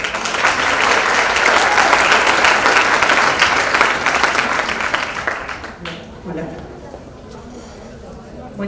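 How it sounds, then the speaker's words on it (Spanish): Loud audience applause fills a conference hall during the opening of a Spanish-language public relations research panel, a dense sustained clapping that fades out after about six seconds into quieter room sound. "Un fuerte aplauso."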